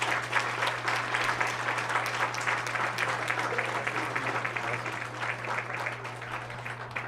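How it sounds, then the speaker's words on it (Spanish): Steady applause from an audience at an accounting-week ceremony honoring a public accountant, dense clapping held at an even level throughout over a low constant hum. "Un fuerte aplauso para el contador público"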